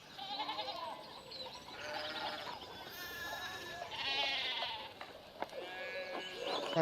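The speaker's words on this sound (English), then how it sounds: "One of the fence rails fell and the sheep started hopping it." Sheep bleat repeatedly in the video game Pentiment, several wavering, high-pitched cries following one another at close range against a soft background bed.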